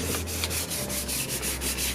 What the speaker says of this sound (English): it's about to start sanding down. I'm just using a 600.